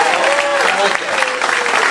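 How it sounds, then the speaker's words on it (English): Comedy show audience applauding for a man in the crowd, with dense, steady clapping filling the room while a voice talks faintly over it. "Round of applause for this man."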